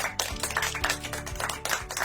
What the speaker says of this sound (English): Let's give Ms. Maggie Liu a virtual round of applause